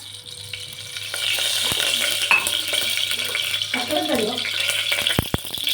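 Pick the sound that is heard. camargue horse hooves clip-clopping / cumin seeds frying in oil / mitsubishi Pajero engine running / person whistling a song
cumin seeds frying in oil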